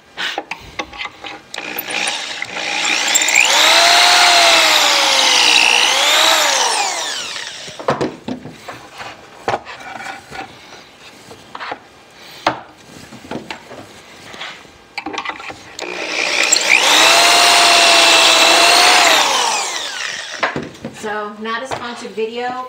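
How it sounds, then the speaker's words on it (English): A power drill whines loudly in two long bursts boring into wood, with clattering and handling noises between them. "I'm gonna drill some pocket holes."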